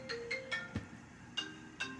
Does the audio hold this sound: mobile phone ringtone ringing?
yes